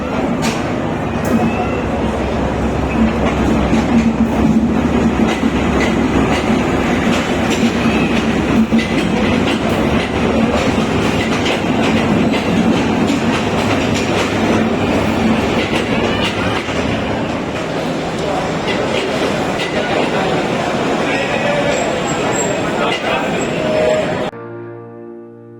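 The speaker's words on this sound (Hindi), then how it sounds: "7 अप तेजगाम एक्सप्रेस 1 घंटा 55 मिनट की ताखीर से मुल्तान रेलवे स्टेशन पे दाखिल हो रही" The 7 Up Tezgam Express, led by locomotive ZCU 36305, rolls into Multan railway station with a loud, continuous rumble and rhythmic clickety-clack of wheels on rail joints, steady and close for about 24 seconds before cutting off abruptly.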